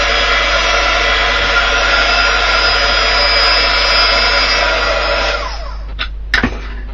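A heat gun dries Spectrum Noir Aqua Tints watercolour ink on paper, giving a loud, steady blowing roar that holds for about five seconds, then drops lower before cutting off with a couple of brief bumps.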